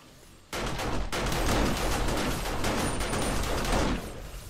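Sustained gunfire in 7 Days to Die bursts in suddenly and rattles on loud and dense for a few seconds, rapid overlapping shots from several guns, then cuts back to quiet, with no speech.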